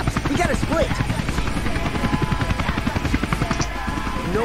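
A police helicopter in the video game Tony Hawk's Underground, its rotor chopping in a loud, rapid, steady rhythm with game sound effects layered over it.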